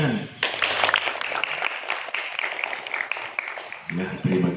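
Dense, steady clapping from a crowd at a junior high school event fills the clip, swelling briefly at the end as voices rise underneath.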